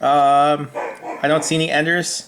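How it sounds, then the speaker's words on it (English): A dog barks a few times in the background of a room while someone speaks over it, the barks sharp and intermittent under the voice. "I do apologize for my dog barking in the background."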